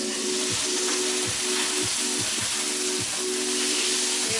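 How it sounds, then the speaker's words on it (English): Loud, steady sizzling of marinated bulgogi steak frying in a hot pan, a continuous crackling hiss with faint rhythmic scraping underneath. "Hear that sizzle?"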